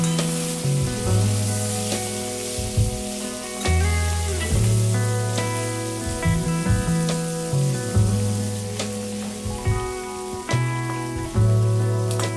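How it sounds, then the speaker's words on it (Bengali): A hilsa fish head fries in oil in a wok with a continuous, fairly loud crackling sizzle, heard beneath a steady melodic background tune. "তারপর ইলিশ মাছের মাথাটাও ভেজে নিচ্ছি।"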